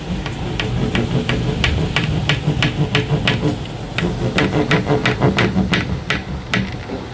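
A serrated knife saws back and forth in a steady rhythm of short rasping strokes, close and fairly loud, with a brief pause midway.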